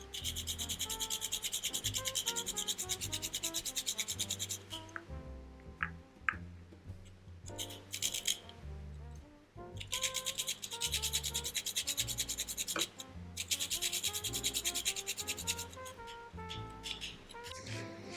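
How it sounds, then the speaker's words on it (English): Nutmeg rubbed against a grater over a bowl of flour, baking powder and salt for oat and fruit cookies, giving steady rasping strokes close by that pause briefly midway and then resume. "I'm just going to grate some nutmeg into it."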